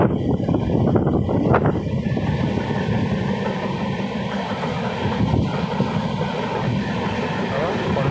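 Steady rumble of a passenger train riding through hilly country near Tirupati, with continuous wheel and wind noise throughout and a few brief clanks early on, loud and close.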